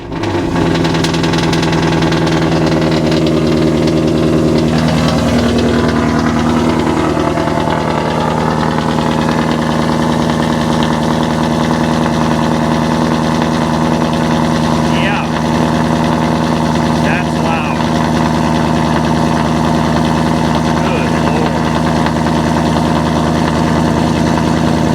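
At a salvage auction yard, a car engine fires up and settles into a steady, loud idle with a constant low hum that runs throughout, without any talk over it.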